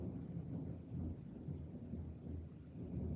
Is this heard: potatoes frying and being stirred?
no